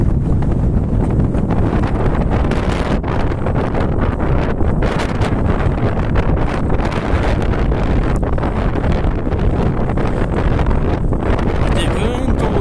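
Strong wind roars and buffets the microphone continuously on a mountain plateau in the Bucegi Mountains, Romania, a loud rushing gust that never lets up.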